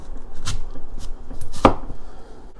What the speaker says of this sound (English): Let's chop this radish in similar